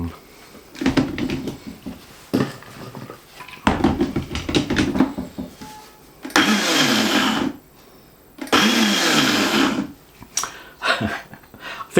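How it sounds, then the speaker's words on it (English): A blender chopping cauliflower into rice-sized granules runs in loud bursts, two longer grinding pulses and a few shorter ones, separated by pauses with clattering and a dog's noises nearby. "So I'm going to try and do it in the blender."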